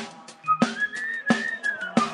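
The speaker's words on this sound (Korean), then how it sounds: "모두 휘파람 불러봐" A whistled melody rises and holds over a rhythmic beat with three regular thumps, fairly close, during a youth troupe's stage performance of a musical song from All Shook Up.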